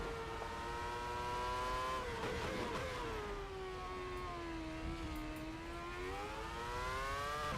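A Ferrari F2007 Formula One car in the ASR racing game at Magny-Cours screams through its gears, the high engine whine climbing, dipping briefly at a shift, then rising again, loud and steady with no talk.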